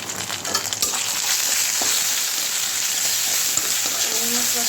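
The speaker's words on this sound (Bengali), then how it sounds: "মশলাটাকে মোটা ভাজা করে আমি খিচুড়িটা অল্প একটু ঢালবো এটার মধ্যে" Spices with ginger paste and ground cumin frying in oil for khichuri, a dense continuous sizzle with occasional scraping stirs, close and steady after a brief rattle at the start.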